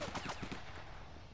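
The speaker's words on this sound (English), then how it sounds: "He's shooting me." Gunfire in the Battlefield video game, a quick burst of several rapid automatic shots, fairly faint and fading out within a second with no talking.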